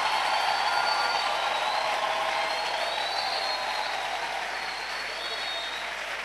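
A church congregation applauding, a dense continuous wash of clapping that holds steady and then eases slightly, heard from within the crowd with no clear speech over it.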